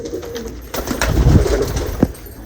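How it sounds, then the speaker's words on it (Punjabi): Pigeons sitting on eggs in a loft, including a large male and a golden bird, coo in low rumbling throbs close by, with a few sharper sounds from the loft around them. "ਆ ਵੱਡਾ ਕਬੂਤਰ ਇੱਕ ਆਣਿਆਂ ਤੇ ਬੈਠਾ ਆ"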